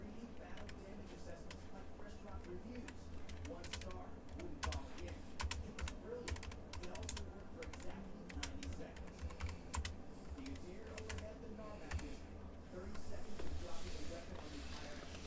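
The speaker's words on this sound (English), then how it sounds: "I cannot type with my keyboard tucked" Quiet, rapid typing on a computer keyboard, irregular clusters of soft key clicks running steadily throughout, with a voice speaking faintly at times underneath.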